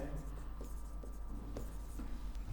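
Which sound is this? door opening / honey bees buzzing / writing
writing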